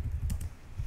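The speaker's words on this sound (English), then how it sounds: "So I'm just gonna type register here." Brief typing on a computer keyboard, two or three quick close key clicks over a low background hum.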